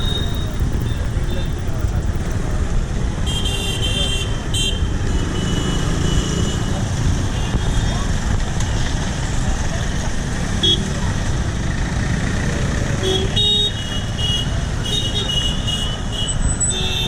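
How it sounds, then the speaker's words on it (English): Night road traffic along Sangli Road near Islampur, India: a constant rumble of passing vehicles with repeated short horn toots from cars and motorcycles, and people talking in the background. "I thought I'd show you what traffic can be like near Islampur"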